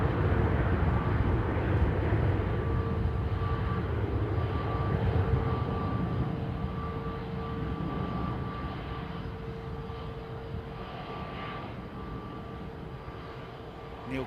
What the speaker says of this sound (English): the Virgin Jet taxiing out now